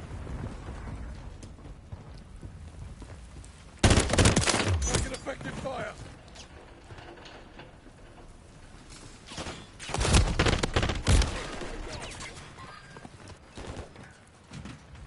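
Gunfire from the Call of Duty: Modern Warfare 3 video game comes in two loud bursts of rapid shots, separated by a quieter stretch of background game noise.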